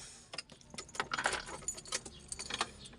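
Car keys jangle and clink in a series of close, bright metallic bursts while being handled to switch on a car's ignition during a radiator fan wiring job.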